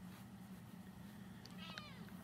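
A domestic cat meows indoors, giving a couple of short, faint meows close by over a low steady hum, with no talk.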